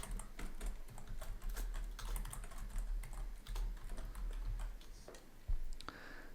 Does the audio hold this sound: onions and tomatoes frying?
no